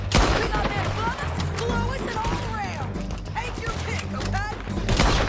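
Rapid gunfire in the western video game Red Dead Redemption 2, a dense barrage of sharp repeated shots and booms layered with game audio and overlapping voices throughout.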